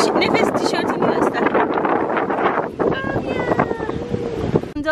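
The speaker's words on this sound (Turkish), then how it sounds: "Çok rüzgar var." Strong wind buffets the microphone with a loud, continuous roar, while people talk underneath.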